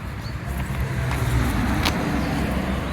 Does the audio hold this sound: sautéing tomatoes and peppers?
no